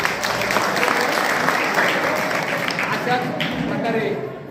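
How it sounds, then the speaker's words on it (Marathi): Dense crowd applause at an election victory rally, steady loud clapping from many hands filling the whole stretch without a break. "त्यामुळं या लाडक्या बहिणीसाठी परत टाळ्या वाजवा सगळ्यांनी"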